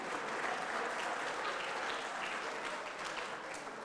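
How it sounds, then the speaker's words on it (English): Steady audience applause at a city committee meeting, a dense even clapping wash from a room full of people, sustained at moderate level throughout with only faint speech underneath. "Let's give them another round of applause."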